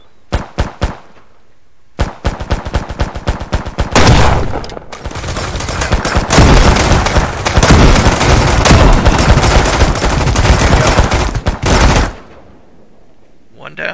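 Gunfire from the survival video game Mist Survival: short bursts of separate loud shots, then a long sustained roar of rapid fire that cuts off sharply, with quieter single shots before and after.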